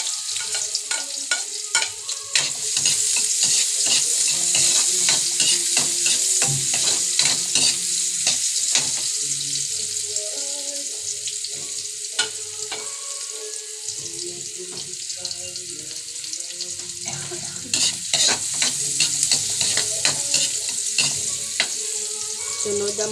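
Onion and ginger sauté in a hot pan, giving a steady sizzle with frequent scraping and stirring clicks from a utensil, fairly close, with brief quieter gaps between bursts of stirring.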